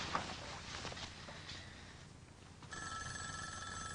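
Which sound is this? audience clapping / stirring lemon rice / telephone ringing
telephone ringing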